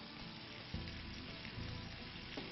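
Picadillo seasoned with calamansi and salt bubbles and sizzles in a pan as its liquid reduces, a dense, even frying hiss close by with a few louder spits.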